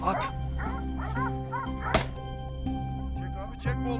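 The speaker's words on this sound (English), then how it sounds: "The air suddenly filled with the sound of barking dogs and the wild boar's screeches" Hunting dogs bark repeatedly during a wild boar hunt, sharp barks scattered over a steady backdrop of music and voices, with an occasional thump.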